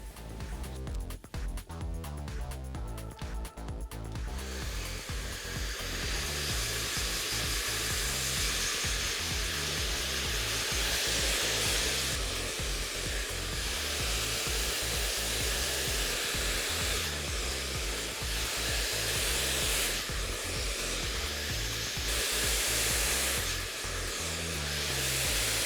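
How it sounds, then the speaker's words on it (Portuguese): A hair dryer runs steadily on freshly rinsed hair after a capillary treatment, a loud continuous whooshing roar that shifts slightly in tone as it moves, with no voices. "agora vamos escovar ou secar."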